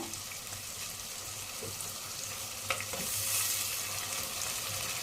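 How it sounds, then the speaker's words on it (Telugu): Ginger garlic paste frying with onions in a pan for a taro root mutton curry, a continuous bright hiss of sizzling oil with a few faint stirring knocks, steady and close without talk. "ఇప్పుడు ఇలా కొద్దిగా వేగిన తర్వాత మనము దీంట్లో అల్లం వెల్లుల్లి పేస్ట్ని వేద్దాము."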